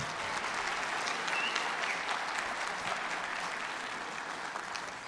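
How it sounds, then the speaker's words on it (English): Sustained applause from a conference audience at an Indigenous education gathering, a dense, steady wash of many hands clapping that fills the whole stretch at even loudness. "Let's give her another big round of applause."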